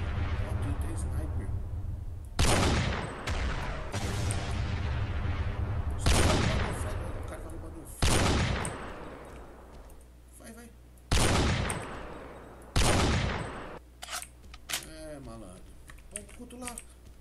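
Loud bursts of gunfire from the shooter video game Mad Combat Marines, several sharp blasts and rapid volleys over a steady hum of game music and sound effects, with someone talking throughout.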